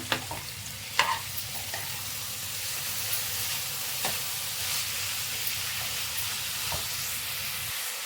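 Chopped greens sizzle and hiss steadily in a hot pan for egg bhurji, with occasional scrapes and taps of a spoon stirring, close up and continuous with no talking.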